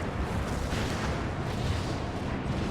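A generator on an airship explodes under cannon fire in Final Fantasy 14, a dense, continuous roaring blast with rumbling low end that fills the whole stretch at steady loudness.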